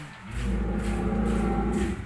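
Cattle on a farm give a loud, drawn-out low moo lasting about two seconds, with no voices over it.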